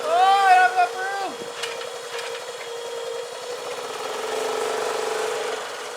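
A turbocharged Honda Pioneer 500 side-by-side engine runs with a steady drone, outdoors in snow. A brief whine rises and falls at the start, and the engine note swells a little toward the end.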